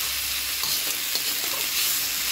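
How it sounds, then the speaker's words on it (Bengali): Masoor and mung lentils frying in a pan for khichuri, a bright continuous sizzle with scraping stirring strokes, close up and steady. "মুসুরির ডালটা মুগ ডালটা মিশিয়ে বাইজে নেব"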